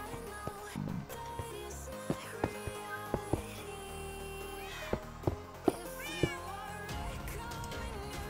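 Several cats meow repeatedly in Minecraft, their short mewing calls coming close together and overlapping over a continuous bed of game background music.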